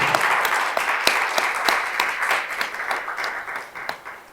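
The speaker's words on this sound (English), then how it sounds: "give him a big round of applause for his effort" Audience at an international tourism and hospitality conference plenary applauding an organiser, a close, moderately loud patter of clapping with a few sharp individual claps standing out, steady throughout and gently tapering.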